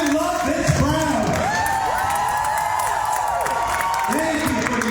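A town hall crowd cheers and applauds, with whoops rising over a continuous wash of clapping, while a voice carries through the noise.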